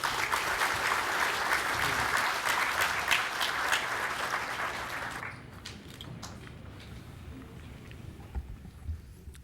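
Audience applause at the FNU Fiji Business Excellence Awards Night, a dense wash of clapping hands that holds steady and loud for about five seconds, then drops to scattered, fading claps.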